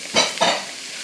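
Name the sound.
bell pepper and celery frying over high heat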